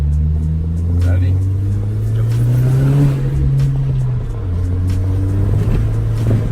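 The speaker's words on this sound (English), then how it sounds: "So we're about to test the brakes right now." A car engine drones loudly and rises in pitch as it speeds up, then drops off abruptly under hard braking in a brake test, with people talking over it.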